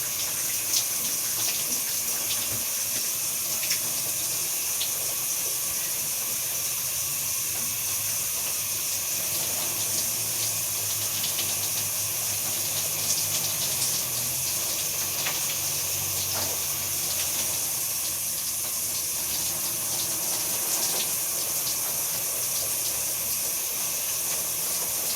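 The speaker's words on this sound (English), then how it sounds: "Water's on." A home shower runs in a steady, unbroken hiss of spraying water, with faint splashing shifts now and then as it carries on alone for the whole stretch.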